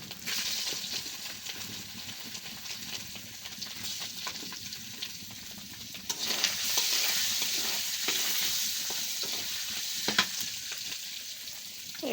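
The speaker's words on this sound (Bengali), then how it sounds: "প্রথমে আমি সয়াবিনগুলো ভেজে নেব।" Soybean chunks frying in oil in a pan, a steady close sizzle with occasional stirring clatters and scrapes, growing a little louder and hissier partway through.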